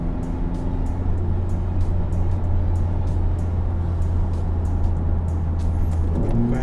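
Honda Civic Type R in sport mode with a steady, loud engine drone and road rumble heard from inside the car, holding one note before the pitch shifts upward near the end.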